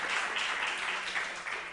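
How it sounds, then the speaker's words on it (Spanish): Applause from a small group at a talk, a brief steady patter of clapping heard at a modest distance, fairly quiet and uninterrupted. "Aplauso, aplauso."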